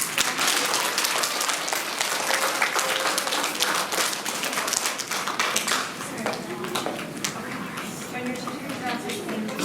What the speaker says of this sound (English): Let's give them a big round of applause as they go sit down.